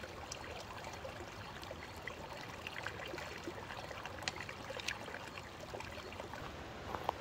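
Creek water flows and trickles steadily in a remote Wind River wilderness backcountry campsite, a continuous close babble with small splashes and no voices.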